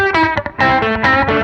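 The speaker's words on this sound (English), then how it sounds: "I want a cleaner repeat sound, I can set this low and turn the echo volume higher relative to it" Guitar tone through a Belle Epoch Deluxe echo pedal, rich harmonic notes with delay repeats trailing behind each played phrase, loud and close with no talking.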